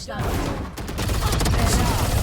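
The Odin machine gun fires in a shooter video game, a loud, continuous burst of heavy gunfire that fills the whole moment with dense, rapid reports.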